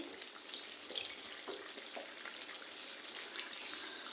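Curry simmering in a pot on a stove over a low flame, giving a faint, steady soft sizzle and light bubbling, with occasional small pops and no voices.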